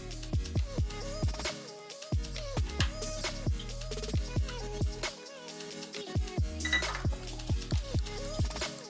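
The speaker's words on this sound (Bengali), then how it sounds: "এবার এটাও আমি ম্যারিনেশনের মধ্যে মিক্স করে দিচ্ছি।" A spoon scrapes and clinks rhythmically against a bowl while fish marinade is mixed with ginger, chilli and garlic paste, with a quick run of close, bright taps that pause briefly and resume.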